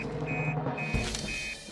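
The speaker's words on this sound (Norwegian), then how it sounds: "Det er alarm." A fire station alarm in the Fireman Sam cartoon: a steady repeating electronic beeping tone pulses over a busy rumbling background, moderately loud, with a short thud partway through.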